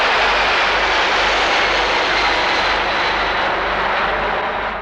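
A fixed-wing airplane arriving, its aircraft engine producing a loud, steady, broadband roar that stays constant throughout, with no voices heard.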